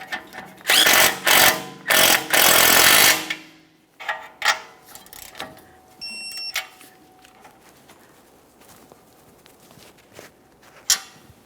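Power tool spinning a tie rod end nut tight on a 2017-2023 GMC Acadia front steering linkage, several loud close bursts in a row followed by quieter clicks and handling noises.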